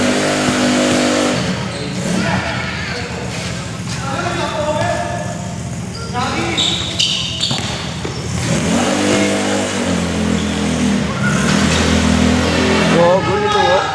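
A motorcycle engine revs repeatedly, rising and falling in pitch, loud and close, with people talking over and between the revs.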